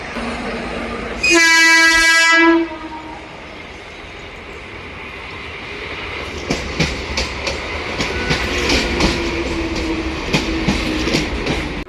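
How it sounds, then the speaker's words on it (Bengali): A train horn blasts loudly for about a second, then a Dankuni–Sealdah local train rumbles and clatters into the station with rhythmic clicking of wheels, growing steadily louder as it nears. "আমাদের ট্রেন চলে এসছে"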